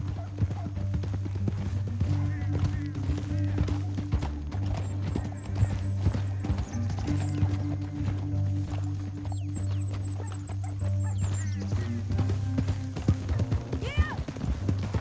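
Horses galloping in the video game Red Dead Redemption 2, rapid rhythmic hoofbeats with occasional whinnies over a low steady music bed and scattered game effects.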